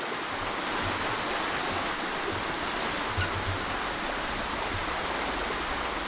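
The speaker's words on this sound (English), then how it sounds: "Oh, that's the waterfall." Steady broadband rush of a waterfall in the video game Dysmantle, continuous and fairly loud with no distinct events, heard alone without talk.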